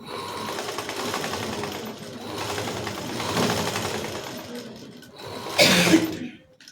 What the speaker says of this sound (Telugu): స్క్వేర్ షేప్ కరెక్ట్ వచ్చేటట్టుగా స్క్వేర్ వేసుకోవాలి కుట్టు